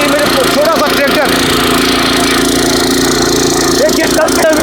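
A small power tiller with a rotavator runs steadily in a dry field, its engine droning continuously throughout while people talk over it.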